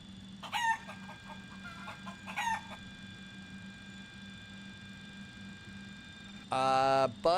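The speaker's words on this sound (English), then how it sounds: "make all the chicken sounds you want" Chicken clucks and a rooster-like crow, played as sound effects on a live flight sim stream, come in short loud bursts near the start, around two and a half seconds, and a louder sustained burst near the end over a steady background hum.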